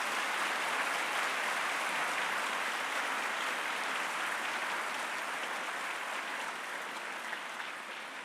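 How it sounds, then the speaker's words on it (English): Sustained applause from a large crowd at a Guru Purnima celebration, dense and steady throughout, fading only slightly at the end. "A big round of applause for all of them,"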